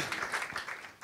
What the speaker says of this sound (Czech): budete chtít, ano, potlesk pro pana Macha.